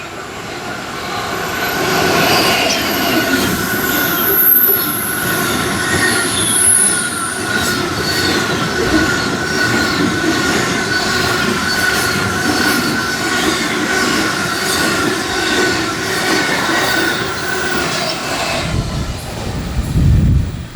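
A Class 66 diesel locomotive hauls a freight train of empty gypsum wagons with a dead locomotive on the back. Loud and close, it gives a continuous rumble of rolling wheels and wagons, with high squeals early on and no talk.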